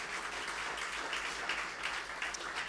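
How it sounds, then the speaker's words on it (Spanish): Congregation applause during a Spanish-language Easter resurrection church service, a continuous dense patter of many hands clapping at moderate volume, steady and unbroken with no talk on top. "Dar un fuerte aplauso a Cristo"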